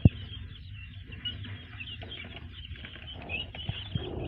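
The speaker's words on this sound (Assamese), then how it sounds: "ইফালে আছে গেনি ফাউলৰ পোৱালি" Nine-day-old guinea fowl chicks offered for sale at a poultry farm give faint, soft peeping chirps over a low background hum, with a brief thump at the start.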